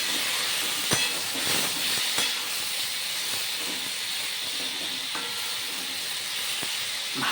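Ridge gourd, onion, tomato and green chilli frying in a pan give a steady close hiss and sizzle, broken by a few sharp clicks and scrapes of stirring, with no talking.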